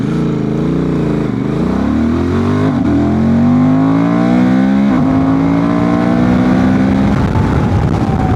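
A remapped Honda Transalp 750 motorcycle accelerating hard through several gears, its loud engine note climbing in pitch, dropping at each shift, then rising again, with strong continuous wind rush and no talking.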